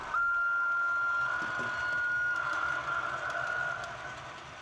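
A model train runs along track on a Swiss-themed layout crossing a stone viaduct, giving a steady close rolling hum with a sustained whine throughout, no voices.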